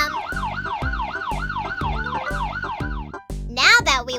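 A cartoon police car siren wails up and down in a fast, regular rise-and-fall pattern, loud and close, followed by a brief high-pitched voice at the end.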